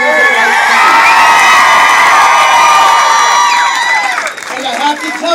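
A crowd of parents and students cheers and whoops loudly and steadily at an educators' rally, with shouting children's voices rising over sustained applause before the noise dips slightly near the end.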